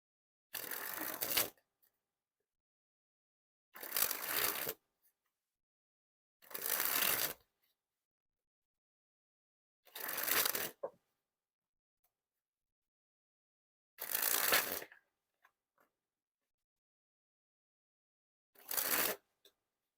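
Six separate bursts of Orbit Eighth Edition playing cards springing from hand to hand, each a dense, crisp fluttering rush lasting about a second, spaced evenly with silence between them, close and fairly loud with no voices.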